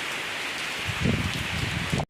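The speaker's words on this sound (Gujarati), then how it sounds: "વરસાદ અત્યારે કન્ટિન્યુ ત્રણ વાગ્યાનો ચાલુ છે" Steady rain falls on a rural farmyard where a buffalo is tied, a constant close hiss with faint low thuds of drops underneath and no talking.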